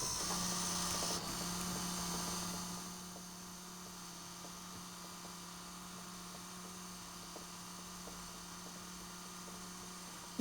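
A fischertechnik hydraulic piston drive runs at speed 6 with a steady, low electric hum and faint whir, slightly louder in the first few seconds and then holding constant.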